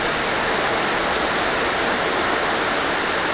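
Heavy rain pours steadily and loudly at a Bayview accommodation in Pagbilao, Quezon, a dense unbroken hiss with no other sounds.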